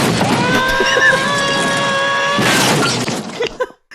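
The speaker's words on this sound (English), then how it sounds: "That was the sound of a tool chest falling down the stairs." A tool chest falls down stairs: a long clattering crash with shattering, tumbling impacts that runs for a few seconds and then cuts off abruptly, followed by a couple of faint knocks.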